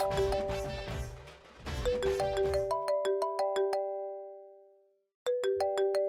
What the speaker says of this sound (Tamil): உங்க போன் அடிக்குது